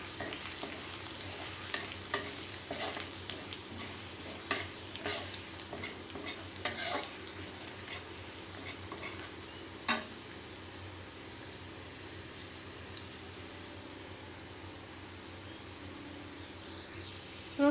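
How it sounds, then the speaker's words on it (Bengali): Garlic fries in oil in a pan with a soft, steady sizzle, broken by a few sharp clinks of a spoon stirring during the first half, then settling into a quieter, even hiss nearby. "রসুনগুলোকে আমাদের লালচে করে ভাজতে হবে।"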